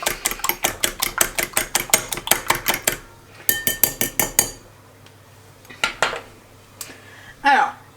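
Omelette eggs are beaten in a bowl, a rapid run of close, sharp utensil clinks and taps for about four seconds, then a few scattered knocks and a brief scrape.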